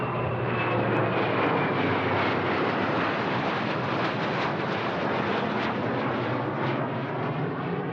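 A CF-188 Hornet fighter jet roars past with a loud, steady, broadband engine rush that fills the whole stretch without a break; no one speaks.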